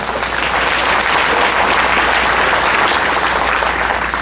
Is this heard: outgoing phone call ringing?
no